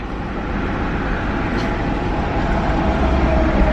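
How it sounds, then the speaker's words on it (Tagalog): A big truck rolls past on a busy street, a loud, continuous broadband rumble that swells slightly toward the end, close by and without talk over it. "there's a big truck"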